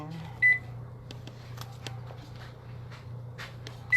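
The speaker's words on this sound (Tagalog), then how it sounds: "I-microwave mo na lang." A microwave oven hums steadily at home, with a beep at the start and another at the end, and soft clicks and rustling around it.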